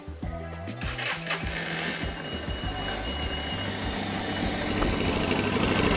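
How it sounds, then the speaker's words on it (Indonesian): An SM Sport V16 V-twin motorcycle engine idles with a loud, uneven lumpy throb, rumbling steadily close by with no one talking. "Nah sekarang kita dengerin suara idlingnya motor ini."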